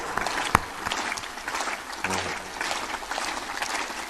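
Audience at a spiritual discourse in Madhya Pradesh clapping together in a steady, dense patter of applause, with a single sharp louder clap standing out near the start.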